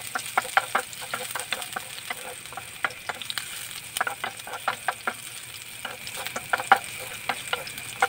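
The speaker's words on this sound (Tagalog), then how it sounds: "lagay natin ang ating bawang o garlic. Yan. Sasahin lamang natin ito." Garlic sautéing in a pan as the base for a homemade salsa, a continuous soft sizzle broken by frequent sharp clicks and scrapes of a utensil stirring against the pan, close and with no voices.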